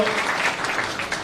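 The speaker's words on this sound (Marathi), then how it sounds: "सर्वांनी टाळ्या वाजवून त्यांचं स्वागत करावं." A crowd at a farmers' protest rally claps to welcome Deepak Dada, a dense, steady burst of applause lasting just over a second.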